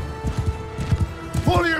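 Hooves clip-clop in quick bursts amid busy German talk in the video game Mount & Blade II: Bannerlord, with a short horse whinny rising near the end.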